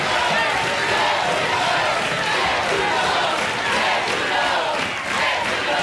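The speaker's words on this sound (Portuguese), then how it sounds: "Nossos aplausos aos embaixadores que defenderam essas duas grandes personalidades." Loud, continuous roar of a studio audience applauding and cheering the ambassadors on a Brazilian television program, a dense wash of clapping and voices that holds steady throughout.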